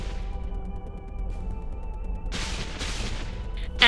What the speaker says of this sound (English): So the camera will pan round, we'll get explosions having claimed the Scion